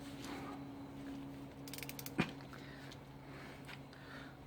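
A torque wrench on a brake job in a garage gives one sharp click at mid-clip, preceded by a brief burst of ratcheting, all faint over a low steady hum.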